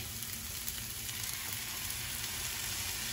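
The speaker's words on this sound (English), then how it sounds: "Just putting a little brown on that pineapple." Pineapple and rice sizzle together in a frying pan, a soft, even hiss of frying that holds steady for a few seconds, fairly quiet and close, with no talking.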